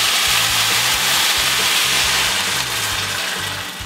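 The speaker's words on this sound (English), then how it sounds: "So now I'm gonna add in 1/2 cup of wild rice and 2 cups of vegetable broth." Sautéed vegetables in a pot sizzle as wild rice and vegetable broth go in, a loud, continuous hissing sizzle with faint low bubbling that eases slightly toward the end.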